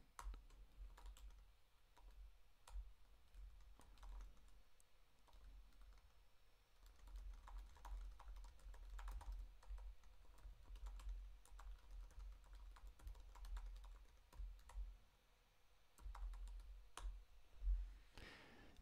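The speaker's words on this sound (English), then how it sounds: "I'm typing something in the chat right now." Typing on a computer keyboard during a live music marketing session, soft irregular clicks and bursts of keystrokes that run close and quiet over about nineteen seconds, with short pauses between.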